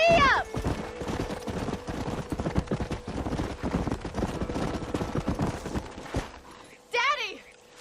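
In the Red Dead Redemption video game, a horse gallops with a rapid, continuous clatter of hooves, close and loud, broken by short bursts of voice at the start and near the end.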